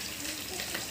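Ginger, garlic, turmeric and curry leaves frying in a pan, giving a close, even hiss of sizzling oil with faint stirring.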